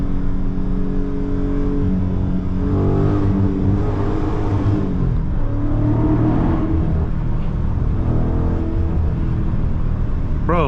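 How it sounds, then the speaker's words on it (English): A 2023 Scat Pack 392 with a V8 accelerates at full throttle in track mode with little traction, giving a loud, close, continuous engine roar with rising revs and no talk. "Hold on, we about to try to full throttle it."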